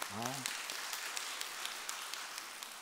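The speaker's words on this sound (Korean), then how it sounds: "하나님께 영광의 박수." A church congregation claps in praise to God, a steady wash of applause with a few sharper claps standing out, following a brief spoken or sung phrase at the start.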